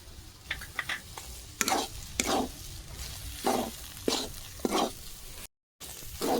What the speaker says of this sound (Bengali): খুন্তি দিয়ে এইভাবে খুঁচে খুঁচে ভালো করে ভাজতে হবে